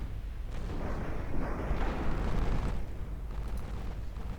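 Warship guns firing armor-piercing shells in the naval video game Ultimate Admiral Dreadnoughts, heard as a dense, continuous rumble of overlapping deep booms at moderate loudness.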